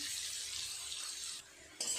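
Onion frying in a pan gives a steady, close hiss and sizzle, with a brief dip and a sharper burst of stirring near the end.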